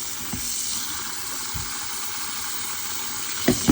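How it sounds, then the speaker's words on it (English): Tap water runs in a steady hiss while okra is rinsed, with a few faint knocks and splashes near the end. "So here we are, rinsing out our okra."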